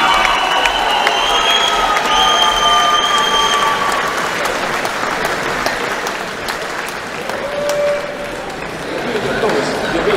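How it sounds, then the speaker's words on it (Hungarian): An audience at a boxing fight night applauds and cheers, with dense continuous clapping, scattered shouts and crowd chatter filling the hall, and a voice over the noise near the start. "Na, még egy nagy tapsot"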